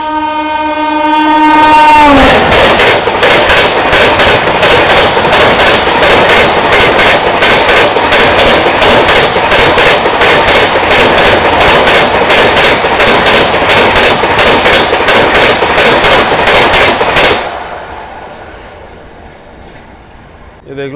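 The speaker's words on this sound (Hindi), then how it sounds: "ये आ गई छठी राजधानी, नई दिल्ली पटना तेजस राजधानी एक्सप्रेस" The New Delhi–Patna Tejas Rajdhani Express overtakes at night past midnight: a horn blast opens, then a loud, close rushing roar with steady rhythmic wheel clatter runs for about fifteen seconds before cutting off abruptly to quieter background.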